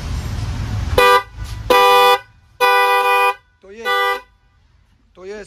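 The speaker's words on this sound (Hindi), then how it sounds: "बड़ा टाइप का हॉर्न है," A loud aftermarket car horn of the Creta type is sounded in four sharp, blaring honks of roughly half a second each, with a short, quieter blip at the end and brief pauses between them.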